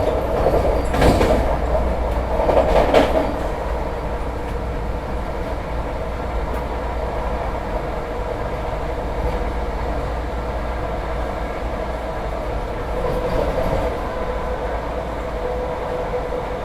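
A Vande Bharat express train running at about 125 km/h and overtaking another train, a steady loud rumble of rolling wheels heard from inside, with a couple of brief rushing bursts early on as the other train passes.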